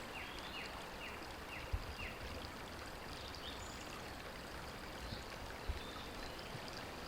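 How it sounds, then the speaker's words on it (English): Water poured into a bottle as a steady, continuous rushing trickle that holds an even level throughout, with no talking. "I'm gonna take the bottle and put the water in the bottle, just like this."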